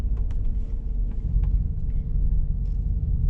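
A Mercedes-Benz G63 AMG 4MATIC rolls slowly over a speed bump, heard from inside as a low steady rumble with a few faint soft taps and no loud knocks.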